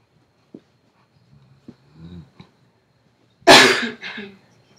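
A single loud, sharp sneeze bursts out after a few faint rustles and small noises, trailing off into a brief softer breath.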